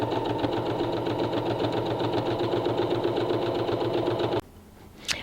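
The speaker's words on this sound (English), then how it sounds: "So we're going to sew pieces 1 and 2 together using a 1/4 inch seam allowance." A sewing machine stitching fabric pieces together with a quarter-inch seam, a steady, fast, close mechanical whirring and rapid needle pulsing that runs for over four seconds, then stops abruptly, followed by a brief click.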